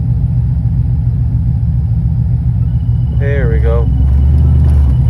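An LS-swapped OBS pickup with a 5-speed manual pulls away in first gear, a steady low engine rumble running throughout, with a brief voice speaking partway through.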